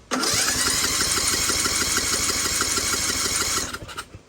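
A custom John Deere racing mower engine cranks and fires up close, chugging loudly with a rapid, even beat for about three seconds before sputtering and dying out.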